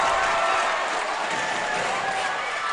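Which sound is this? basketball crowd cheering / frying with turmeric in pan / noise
basketball crowd cheering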